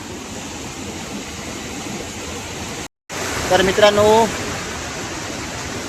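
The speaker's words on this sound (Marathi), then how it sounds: "धबधब्यावर थांबला आहे बघा." A waterfall on the trek to Rangana fort gives a steady, broad rush of falling water from start to finish. A voice briefly talks over it partway through.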